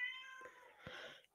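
A cat meows insistently in the background, a few drawn-out cries close together, fairly faint and with no talking over them.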